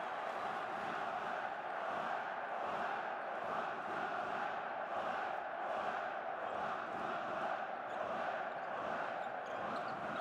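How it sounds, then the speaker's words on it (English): A packed basketball arena crowd during a Partizan versus Beşiktaş Champions League game roars in a continuous, dense wall of chanting and cheering. The noise is loud and sustained with a rhythmic pulse, and a commentator's voice sits faintly underneath. "What a crowd. What an atmosphere."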